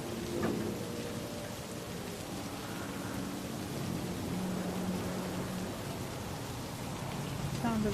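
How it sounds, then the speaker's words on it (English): Steady rain pours in a city street in the game Cyberpunk 2077, with a rumble of thunder and faint tonal game sounds under it. The hiss is dense and continuous throughout, and there is no speech. "Sound of the rain is amazing."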